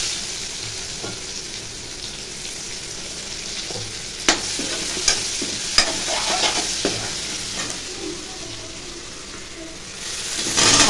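Onions frying in a pan with prawns and potatoes, a continuous hiss of oil broken by a few sharp spatula scrapes and knocks against the pan, close and moderately loud.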